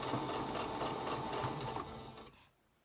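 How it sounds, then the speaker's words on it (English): A sewing machine back stitches a pleated fabric mask, its needle hammering in a fast steady rhythm up close before slowing and stopping near the end. "Make sure you back stitch here."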